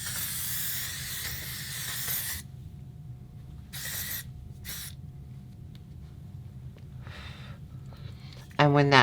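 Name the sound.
spraying Neutrogena Ultra Sheer Body Mist sunscreen on shoulder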